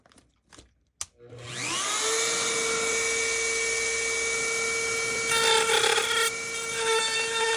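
A Dremel rotary tool grinds a Darth Vader Black Series helmet after a few light taps. It spins up into a loud, steady, high-pitched whine that holds for several seconds and roughens briefly near the end.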